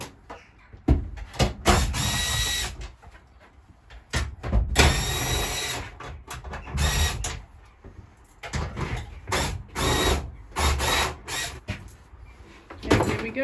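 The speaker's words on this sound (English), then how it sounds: "today's job is removing the bulkhead. The bulkhead is coming out." Power tools take out the bulkhead of a van being converted into a campervan, with repeated bursts of loud drilling and grinding separated by short pauses, clanks and rattles of metal panels.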